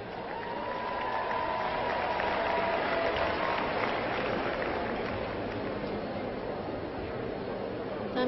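Steady, dense applause from an audience at a 2003 world gymnastics team final, a continuous broadband patter of many hands filling the whole stretch at even loudness with faint crowd murmur beneath.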